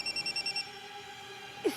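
A telephone bell rings on a Hindi TV serial set, giving a quick burst of rapid repeated rings for about half a second, then stopping, with a brief voice sound near the end.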